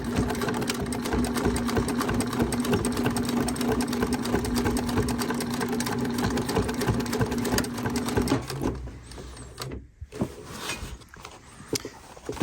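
Sewing machine running continuously as it stitches triple seams on a fabric utility bag, a steady close mechanical whir with a constant hum that stops near the end, followed by quieter handling noise.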